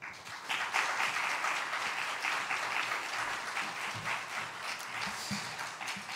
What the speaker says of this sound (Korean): 목사님 나오실 때 한 번 더 박수하겠습니다.